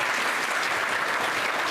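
An audience applauds the president and team of a Babar Samaj charitable trust at a free notebook distribution event in Sihor, with dense, steady clapping throughout.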